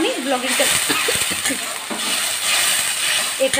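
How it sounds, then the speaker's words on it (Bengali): Spice paste with cumin and turmeric powder sizzles and crackles in hot oil while being stirred for a lentil curry, a steady hiss with small clinks of the spoon, under a speaking voice. "এভাবেই আমি নাড়াচাড়া করিয়ে পুরো মশলাটাকে কষিয়ে নেবো"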